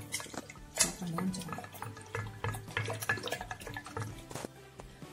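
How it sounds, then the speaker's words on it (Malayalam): Homemade black raisin red wine with yeast added being stirred: soft wet sloshing and dripping liquid sounds with occasional clinks, close and moderately quiet, continuing steadily throughout. "അപ്പൊ ഇതിൽ ഈസ്റ്റ് ഇട്ടതിന് ശേഷം നമ്മൾ ഇത് നന്നായി ഒന്ന് ഇളക്കി കൊടുക്കണം."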